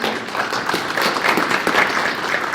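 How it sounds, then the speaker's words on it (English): Town hall audience in Alaska giving a round of applause for staff member Aaron, continuous mid-distance clapping from a room full of people, even and sustained throughout. "if anyone needs a round of applause, it's Aaron"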